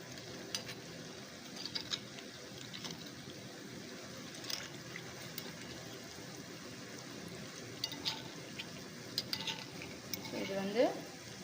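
Wheat appams frying in ghee hiss softly while a utensil turns them one by one with light, intermittent scrapes and taps on the pan, getting a little louder near the end.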